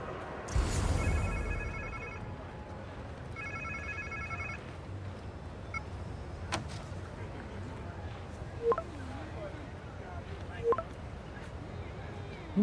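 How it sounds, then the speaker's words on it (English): A phone rings in the Spider-Man 2 video game: a short burst of bright, repeated electronic trills, then a second burst, set over a low game ambience with a few soft thumps. "Sounds like somebody's phone."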